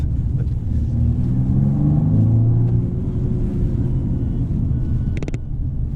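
A 2020 BMW M235i Gran Coupe driving on a slippery road, its engine a loud steady rumble with a rising tone midway, heard from inside the cabin.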